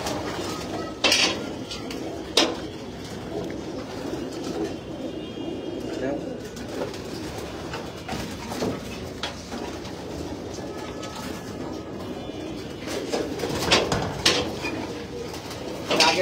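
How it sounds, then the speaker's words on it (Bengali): Racing pigeons coo in a loft, a steady low murmuring over busy background clatter resembling dishes and cutlery, with occasional sharper knocks and movement sounds. "আগের বারে রেসুইং করা কবুতর"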